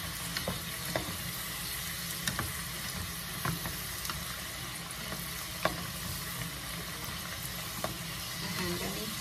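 Food frying in a pan, steady crackling sizzle with scattered pops and clicks throughout, fairly faint and close, with no talking.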